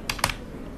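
A few quick keystrokes on a computer keyboard while a Gmail address is typed in, close and crisp, with two or three clicks grouped together before a quiet pause.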